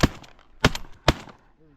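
Two loud, sharp shotgun blasts about half a second apart, fired at drake ducks from layout boats while duck hunting in North Dakota, each with a short echoing tail, following a brief earlier shot.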